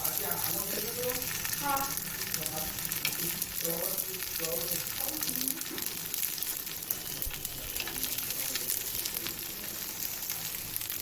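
Appe sizzle in oil in a pan as they are turned over, a constant dense crackling fry lasting throughout, with someone talking over it in the first half.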